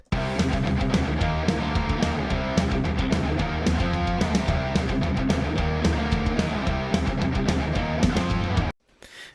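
A dense, loud instrumental rock guitar intro riff, driving continuously with a full band-like texture before stopping abruptly near the end.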